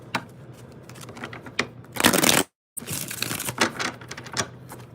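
Tarot cards being shuffled by hand, with a run of quick riffling flutters, one loud dense riffle, a short break, then more crisp shuffling up close.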